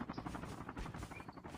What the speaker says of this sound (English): Enemy chopper inbound as well